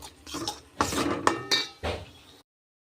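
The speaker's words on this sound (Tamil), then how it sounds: "இப்போ நெக்ஸ்ட் எல்லாத்தையும் கிளறி விட்டுடலாம்" Close, clattering scrapes of a spoon stirring quail masala spices in hot oil in a pan, in four or five distinct bursts with metallic clinks, then silence.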